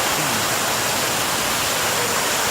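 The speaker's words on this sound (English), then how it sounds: "I guess that's why we've got 3 waterfalls" Constant roar of falling water from a waterfall along a river at a hotel, heard from a passing riverboat; loud, even and unbroken, with no voices.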